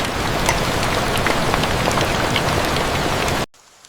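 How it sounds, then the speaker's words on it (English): Heavy rain pours steadily onto a treehouse deep in a forest, a dense, constant patter and hiss close by that holds without pause for several seconds before cutting off abruptly into near silence. "The rain fades."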